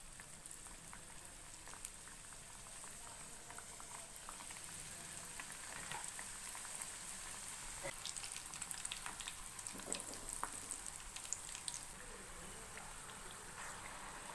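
Karjikai, sweet stuffed pastries, frying in hot oil over a medium flame, a steady soft sizzle and crackle that runs throughout with a few louder bubbling pops.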